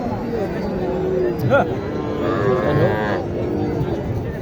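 A cow lets out long, close, drawn-out moos amid a busy cattle market in Naogaon, Bangladesh, with people murmuring in the background.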